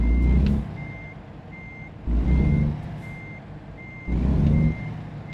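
A truck's reverse alarm in American Truck Simulator beeps in a steady rhythm about every half second, with three bursts of engine rumble rising and falling underneath.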